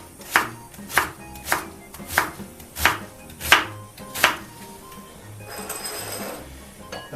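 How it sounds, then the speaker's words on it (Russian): A knife finely shredding cabbage on a cutting board for a meatless bean borscht: seven sharp, evenly spaced chops close up, followed by a softer scraping rustle at the end, with no talking. "Пока варится картофель, подготовлю капусту. Мелко я нашинкую."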